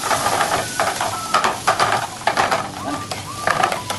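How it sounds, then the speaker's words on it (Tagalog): Onion and chili sizzle loudly in a hot pan for tofu sisig, with a dense crackling fry and repeated spatula scrapes and stirs throughout, close and prominent. No clear talk. "So salang na natin itong sibuyas, sili natin. Mainit naman na kasi yan."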